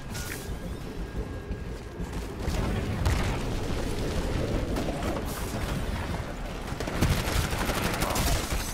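Gunfire in the Titanfall multiplayer shooter: dense, continuous rattling bursts of automatic weapons and booming impacts, loud and close, forming a chaotic battle wash with no clear pauses.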